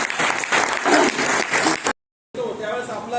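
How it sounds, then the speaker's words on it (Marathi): Enthusiastic applause from an audience at a retirement farewell ceremony for an assistant commissioner, a dense clapping roar lasting about two seconds, cutting out briefly, then resuming with voices mixed in. "एकदा जोरदार टाळ्या साहेबांच्या झाला पाहिजे"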